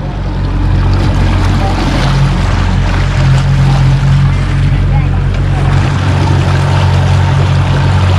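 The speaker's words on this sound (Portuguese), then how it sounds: "Vamos dar rolê de barco agora." A motorboat engine drones steadily and loudly through a summer boat ride in Europe, a constant low rumble with wind and water noise over it, lasting the whole stretch with no pause.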